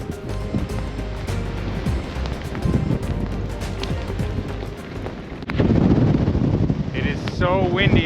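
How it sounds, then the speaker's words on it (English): Strong wind buffets the microphone at a hilltop castle in Sintra, a loud, continuous gusting roar that surges heavier partway through, with a voice speaking over it. "So windy up here."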